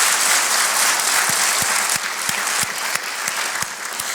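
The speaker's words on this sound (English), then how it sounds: "Yes, applause for that." Sustained audience applause at an evening Martin Luther King Jr. celebration, honoring awardees and performers; dense, steady clapping from a large crowd with a few sharper close claps standing out, continuing evenly throughout.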